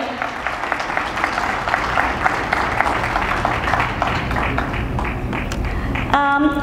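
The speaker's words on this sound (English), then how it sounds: "Please give a big round of applause" An audience claps steadily in a hall, a dense, sustained round of applause, with a brief tone sounding at the very end.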